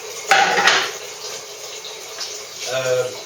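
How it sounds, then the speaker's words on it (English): Tap water runs into a cooking pot in a home kitchen, a close hiss with metallic clinks and knocks of the pan as it fills. "So water's going in there."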